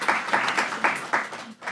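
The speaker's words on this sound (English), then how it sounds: "Let's give him a big round of applause." An audience at a live startup pitch event applauds a founder, with moderate, somewhat sparse clapping in uneven bursts and faint voices.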